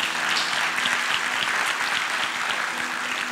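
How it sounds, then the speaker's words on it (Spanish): A church congregation at a Bible teaching session applauds a young man with dense, continuous clapping at steady volume, heard alone without talk. "el joven, un aplauso."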